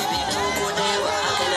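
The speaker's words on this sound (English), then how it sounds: "Cheers from the crowd all the way as the Vice President and his entourage come into the meeting point at the State House." A crowd cheers and shouts continuously as a Vice President and his entourage arrive at a meeting point at the State House, a loud, dense roar of many voices with a slight swell partway through.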